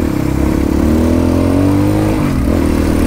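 A Crossfire motorcycle ridden off-road roars loud and close, its engine revving upward in a sustained climb before easing slightly near the end.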